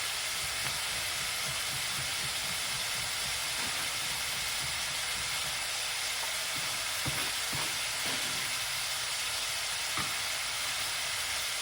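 Cabbage and spring onion sizzle steadily in a hot pan during a stir fry, a continuous close hiss of frying with occasional stirring scrapes and no voices.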